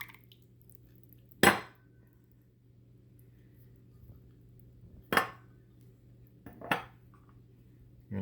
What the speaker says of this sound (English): And we're going to stir it.